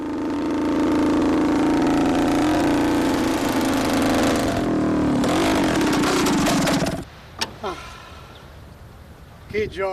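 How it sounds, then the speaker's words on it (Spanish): A Vespa 125 Corsa racing scooter from 1950, its small two-stroke engine running loud and close with a steady buzzing drone that rises and wavers for about seven seconds, then cuts out, leaving brief squeaks and a voice at the end. "el expiloto va a volver a sentarse en una Vespa 125 Corsa"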